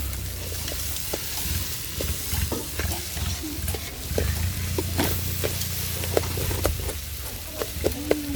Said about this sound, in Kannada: ಉಪ್ಪು ಹಾಕಿ ತಿರ್ಸ್ಕೊಳ್ಳೋದು